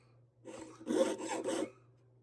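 A jeweler's saw makes a slow rasping stroke back and forth a few times without cutting, close and fairly quiet, with a low steady hum underneath.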